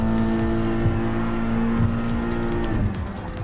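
Race car engines drone and whine steadily as cars overtake a Mercedes during a World Hatchback Championship race in Gran Turismo Sport, a loud sustained engine tone that drops in pitch near the end as a voice speaks briefly.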